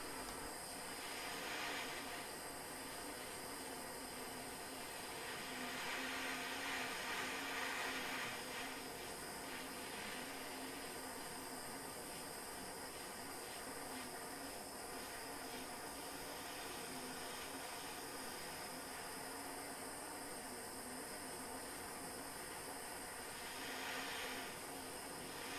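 A handheld micro torch flame heating copper for jewellery, a faint, steady hiss and roar that runs evenly throughout, with slight swells in the flame noise and no talk.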